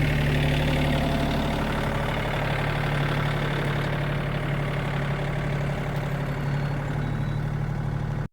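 Steady, loud drone of a tractor engine running beside a 15 hp Mech Maxx wood chipper, a constant low rumble with a fast even throb and no pauses until it cuts off abruptly at the end.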